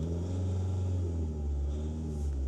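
Steady low hum and rumble of a Foton Tunland V9 accelerating on electric motor power, with a smooth tonal whine inside the cabin and no distinct engine revving.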